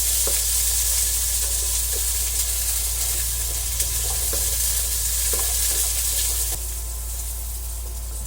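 Carrots and potatoes frying in oil for chicken caldereta, a loud steady hiss of sizzling over a constant low hum, with a few faint clicks and no voices.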